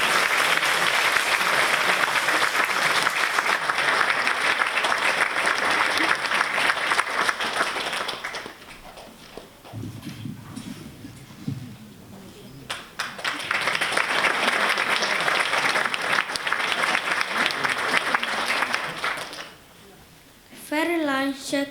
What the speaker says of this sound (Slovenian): Glasen, spodbuden aplavz za učence osnovne šole Dragomelj!